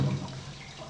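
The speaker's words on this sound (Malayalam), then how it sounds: "1 ലിറ്റർ വെള്ളം നമുക്ക് അതിനകത്തേക്ക് ഒഴിച്ചു കൊടുക്കാം." About a litre of water poured into a large pan on a stove, a brief soft splashing rush that fades quickly.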